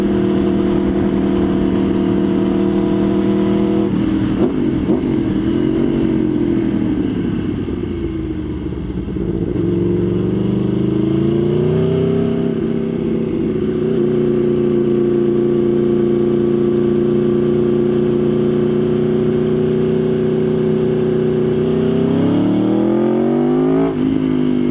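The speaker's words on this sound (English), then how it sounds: "The exhaust does get a little loud once in a while, but I mean, all you gotta do is crack the throttle." An Aprilia Tuono V4R motorcycle engine runs loud and close, idling and then climbing through throttle blips and sustained revs with a harsh, booming exhaust note that rises and falls, and no one speaking.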